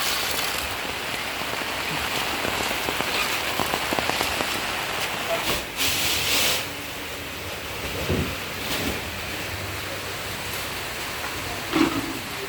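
Steady rain pouring onto surfaces around a house in the Philippines, a dense hiss of drops with a few brief louder spatters and faint background sounds.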